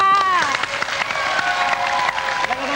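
A Thai TV music show studio audience applauds and cheers loudly while a voice speaks over the clapping.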